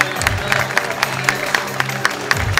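A nightclub audience at a beauty pageant claps, with sharp individual claps standing out over a crowd murmur and low background music.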